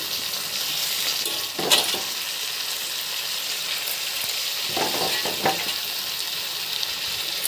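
Soaked masoor dal is tipped into a sizzling onion tempering, a loud steady frying hiss with a couple of sharper bursts and stirring sounds, close up and without talk.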